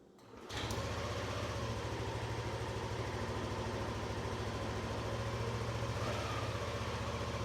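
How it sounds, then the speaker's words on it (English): A Yamaha Zuma 125 scooter engine fires up after a brief click, then settles into a steady, quiet idle with a rapid, even putter close by. "I can't believe how quiet this 125 scooter is here. Let's listen to her start up."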